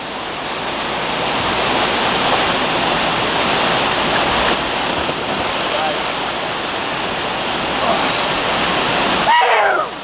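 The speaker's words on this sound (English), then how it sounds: "swimming to the waterfall, get the waterfall action and swimming in" A swimming-hole waterfall roars in a loud, constant broadband rush for nearly the whole stretch, then cuts off abruptly near the end as a brief voice is heard.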